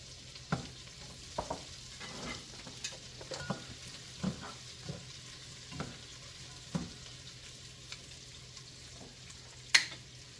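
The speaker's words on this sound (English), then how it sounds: "we're going to throw those Bulbasaur vines back in there and toss to coat" Vines are tossed in a frying pan with salt and pepper, giving a quiet, steady sizzle broken by scattered scraping and clacking stirs, one sharp clatter near the end.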